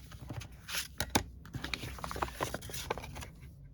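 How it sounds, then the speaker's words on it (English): Scissors snip through envelope paper in a close, quiet series of short crisp cuts with soft rustling between them. "I'm just snipping this bit off here"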